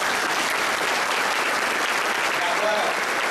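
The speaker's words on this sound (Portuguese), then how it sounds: "pedir uma salva de palmas para o presidente do PSDB, deputado Mendes Câmara." Audience applause at a Democratas political party gathering, thick continuous clapping from a large crowd, loud and steady throughout with no pauses.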